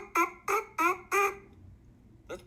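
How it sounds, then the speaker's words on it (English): Buzzing into a trumpet mouthpiece alone, four short nasal honking bursts in a quick even rhythm, then a pause and one more brief buzz, close and loud with no talk. "then you take the mouthpiece, you can do the same thing. And it's an even more fun buzz."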